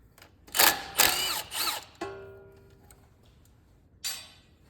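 A pneumatic impact gun works the 13mm lower strut bolts on a 2011-2019 Dodge Journey, giving three quick close whirring bursts, then a short mechanical rattle fading out and one more brief burst near the end.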